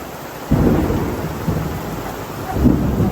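Thunder rumbles low and heavy over steady rain at a campsite in Croatia, with rolling swells of it coming in waves, no voices.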